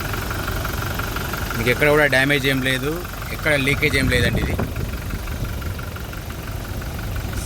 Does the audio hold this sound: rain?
no